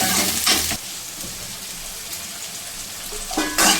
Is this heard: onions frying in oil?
yes